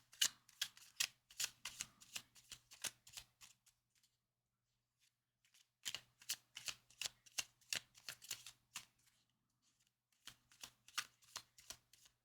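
Tarot cards shuffled by hand, crisp rhythmic riffling in three quick bursts separated by short silences, close and quiet, no voices.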